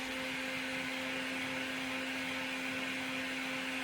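Steady, loud electric whir of a heat gun blowing hot air onto a carbon fiber wrap on a bike, a constant drone with a faint hum, no pauses.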